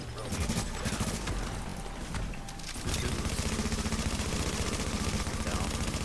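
Bursts of rapid gunfire in The Division, a loud automatic stream that breaks off briefly and then resumes as sustained fire, with players talking over it.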